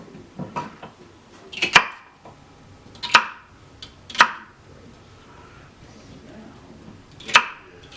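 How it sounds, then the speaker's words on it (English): A food processor chopping vegetables for turkey stuffing gives four sharp, separate, evenly spaced chops, crisp and close, with quiet gaps between them. "now use my new food processor to chop them up"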